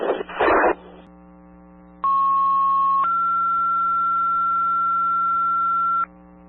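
Fire department paging tones sent over a dispatch radio channel for a New Hampshire house fire mutual aid call: after a short burst of static, a steady tone sounds for about a second and then shifts to a second long tone, loud and clear over a constant radio hum.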